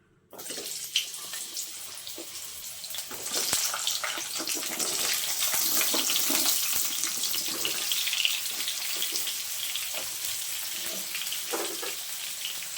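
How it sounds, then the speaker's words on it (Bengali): Pointed gourd (potol) slices fry in oil in a pan, a steady hissing sizzle starting abruptly and continuing close and even, with occasional crackles and utensil clicks. "এরপর পটলটা ভেজে নেবো"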